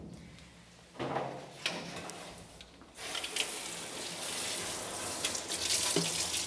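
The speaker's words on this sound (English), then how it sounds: "So I will fill until that line warm water." Warm water runs from a tap into a tub for grooming a Bouvier des Flandres dog, starting with a few knocks and splashes and then becoming a steady rushing gush that continues at moderate loudness.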